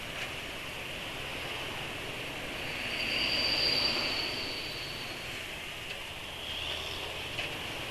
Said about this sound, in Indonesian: Suara mesinnya jadi lebih halus.